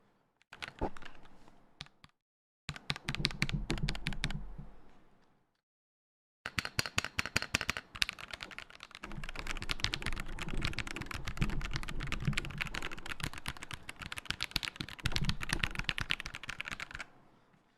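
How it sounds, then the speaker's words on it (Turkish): Key clacks from a new Hawk gaming keyboard: quick, close bursts of typing separated by short pauses, followed by a long, steady run of rapid keystrokes. "Hemen klavyemizi çıkaralım. Ses testi istiyor muyuz?"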